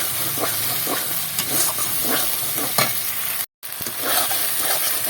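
Pangas fish curry masala frying and being stirred in a pan, a steady loud sizzle with repeated scraping strokes of the spoon and a brief break in the sound.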